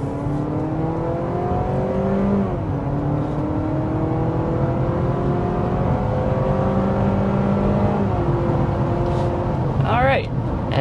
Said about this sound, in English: And there we go, up to 60 miles per hour.